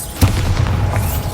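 Bombarda spell detonation in the video game Hogwarts Legacy: a sharp burst hits early, then a heavy rolling boom rumbles on at steady loudness, alone with no voices.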